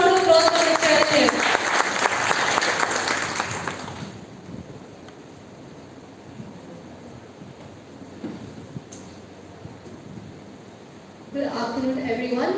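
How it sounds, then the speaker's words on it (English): Workshop audience in a college auditorium clapping for the speaker, a dense burst of applause for about four seconds that fades into room quiet, and a voice starting to talk at the end. "Can you please have a huge round of applause for Ms. Sharon?"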